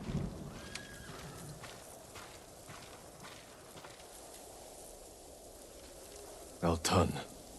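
Horses in the video game Ghost of Tsushima, with faint trotting hooves under low game ambience and then a loud, close neigh near the end.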